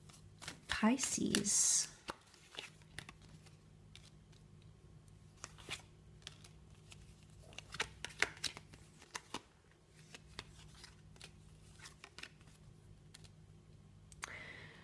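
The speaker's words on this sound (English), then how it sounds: "So I will lay out 5 more cards" Tarot cards shuffled and dealt out, a brief loud riffle near the start followed by soft scattered ticks and slaps of cards laid down, with a quiet voice speaking throughout.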